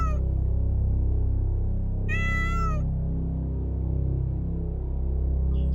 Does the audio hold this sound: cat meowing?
yes